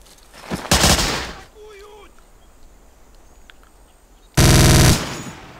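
Automatic gunfire from War of Infamy: Eastern Front, a World War II game: a loud burst near the start, quiet ambience after it, then a second dense, loud volley near the end.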